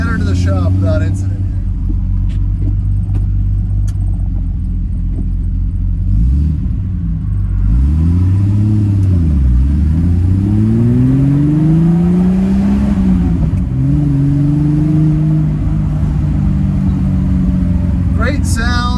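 A Triumph TR6 driving, with a loud, close exhaust drone and engine rumble that rises and falls as it revs through gears, while someone talks over it.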